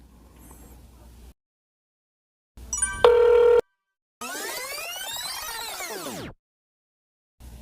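Phone call tones while waiting for an answer: a short ringing burst, a loud sustained electronic tone, then a sweeping warbling chime, separated by silent gaps.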